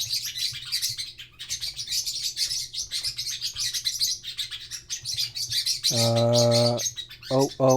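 Pet birds chirp and squawk in rapid, busy bursts, with a few louder, harsher calls near the end; no talk.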